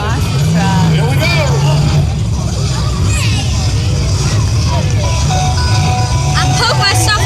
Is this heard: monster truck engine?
yes